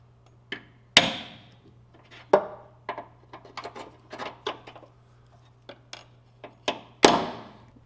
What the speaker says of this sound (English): This will slide down the tube and center punch the plates.